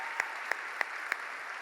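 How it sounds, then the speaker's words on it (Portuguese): Four sharp claps spaced evenly over a steady wash of crowd noise, a church congregation clapping together in a reverberant room. "Aplauda o nome de Jesus"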